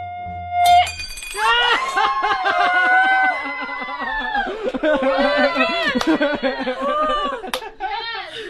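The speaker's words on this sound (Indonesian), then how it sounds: "suara manusia dapat memecahkan objek dengan menyamai frekuensi natural atau nada tinggi yang dikeluarkan oleh objek" A high sustained human voice tone, singing to make glass resonate, rises into loud harmonic vocalising with a sharp shattering burst near the start and brief crash near the end.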